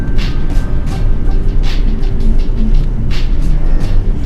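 A van driving along a road, a steady engine and road rumble running loud and continuous throughout with no voices.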